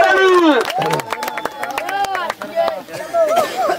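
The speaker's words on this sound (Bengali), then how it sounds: "রাব্বি ভাইয়ের জন্য একটা জোরে তালি হয়ে যাক জোরে করতালি" A crowd at a rural football running contest claps and cheers for a prize-winning player, rapid sharp claps scattered through loud shouting and excited voices, all close and busy.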